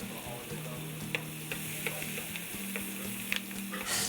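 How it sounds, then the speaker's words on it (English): Salt pork and onions frying in a pan, a steady close sizzle with faint crackles and a low hum running underneath, no speech. "So the salt pork's ready, so I'm gonna add the onions."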